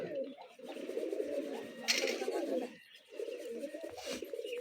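Soft, repeated low cooing of pigeons continues through most of the stretch, with a brief lull partway and faint chirps above.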